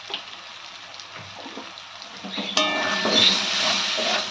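Ginger, garlic, and ground coriander and cumin sizzle and fry in an oily pan, a steady hiss that swells louder partway through as the spices are stirred in, with no voices.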